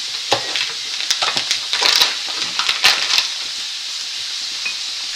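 Knacki sausages are cut into pieces with a knife, making a quick cluster of crisp clicks and taps on a board over a steady background hiss, close and fairly loud, then easing off.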